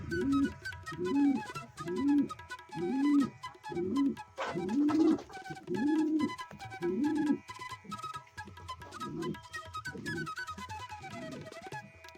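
Desi and Girabaz pigeons coo nearby in a steady run of soft, rhythmic throaty calls, repeating roughly every second with faint chirps and background noise around them.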